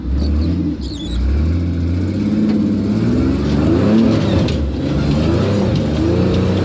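A car engine revs hard while straining to climb a steep hill, a loud, continuous growl that rises and falls with the throttle, with no talking.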